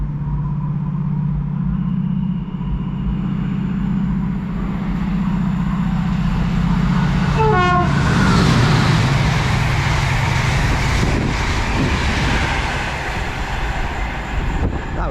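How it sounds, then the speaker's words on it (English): A Chiltern Railways Class 68 diesel locomotive hauls a service through a Buckinghamshire station, its loud engine drone rising and falling as it passes close by, with a brief high squeal of wheels or a horn midway and rushing rail noise after. "We've got a Chiltern Railway service to Kidderminster."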